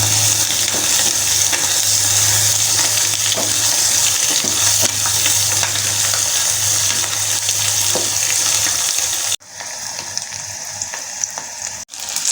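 Medan anchovies frying in hot oil, a loud, dense, continuous sizzle with crackling, steady throughout and briefly dipping near the end, no voices present.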